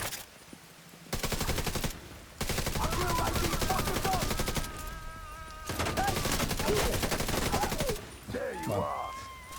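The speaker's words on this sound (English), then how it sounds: "Well, that's some shooting." Sustained automatic gunfire rattles through a video game in long, loud bursts with brief pauses between them. Whistling, chirping game effects weave through the shooting.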